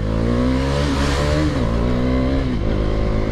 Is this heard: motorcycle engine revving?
yes